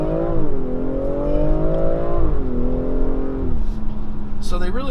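A 2019 BMW X4 M40i's engine revs up loudly as it accelerates to pass, the tone climbing, dipping at a shift, then rising again, heard from inside the cabin with a brief voice near the end.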